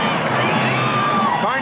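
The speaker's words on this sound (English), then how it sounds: "And the Oakland crowd loves it." Oakland baseball crowd at a 1990 Athletics game cheering after a run-scoring hit, a dense, loud roar of voices and whoops sustained throughout, with a broadcast voice over it.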